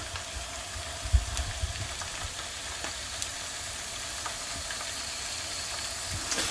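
A small frying pan heats up for cooking steak, giving a steady low sizzle and hiss with scattered faint crackles and one soft knock, close by and with no voices.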